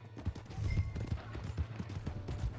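Horse hooves clip-clop on a town street in the Red Dead Redemption 2 video game, a quick, uneven run of close, thudding beats that carries on throughout.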